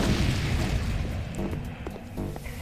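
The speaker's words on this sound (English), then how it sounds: "When we push this dragon gem, the statue will fire a fireball." A statue hurls a fireball in the Lands of Lore II game, a loud booming whoosh that bursts at the start and then fades into a rumbling tail with small crackles.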